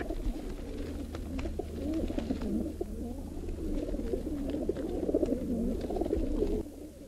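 Pigeons cooing steadily in a loft, a dense, continuous murmur of overlapping low coos from many birds close by, with no speech.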